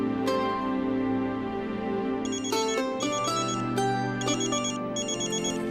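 A mobile phone ringtone plays a bright electronic melody in repeated tonal phrases over a steady background hum, fairly loud and without voices.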